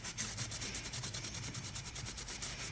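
Rhythmic back-and-forth rubbing scrapes the paint off an FMS 1500mm P47 foam model plane while it is prepped for primer, each stroke repeating quickly and evenly at close range with no voices.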